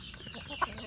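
Free-range village chickens, fed leftover rice in the morning, give a single short cluck that rises briefly out of quiet background noise.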